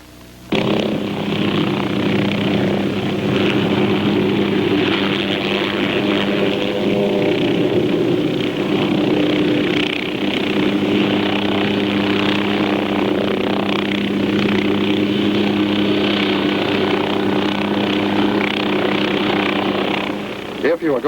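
An OH-6 helicopter's rotor and turbine drone steadily and loudly throughout, pivoting around its tail rotor on the ground, with a strong continuous hum and blade chop under a speaking voice.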